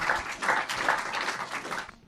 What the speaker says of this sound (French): Merci David, on peut l'applaudir.